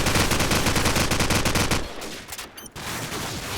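Video game gunfire shooting through walls, a loud rapid burst of automatic shots lasting nearly two seconds, then a few scattered single shots and impacts.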